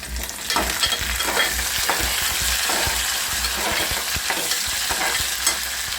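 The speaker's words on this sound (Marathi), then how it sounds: "आता त्याच्यामध्ये याच्यामध्ये आपण कढीपत्ता टाकत आहोत" Curry leaves drop into onions frying in oil for a ravas fish masala, giving a steady sizzle with repeated scraping stirs of a spoon against the pan and no talking.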